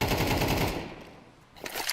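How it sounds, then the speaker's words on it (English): A rapid burst of Desert Eagle hand-cannon shots in Counter-Strike rattles off loud and close for about a second, then fades into a brief lull before more firing picks up. "Hand cannons, everybody."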